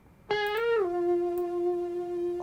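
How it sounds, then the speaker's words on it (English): A sustained, harmonically rich synth-like tone shaped by heavy Manny Marroquin-style distortion on a pop track, entering abruptly, bending downward, then holding steady and loud without any voices. "Oh, my favourite distortion, which is the Manny Marroquin distortion."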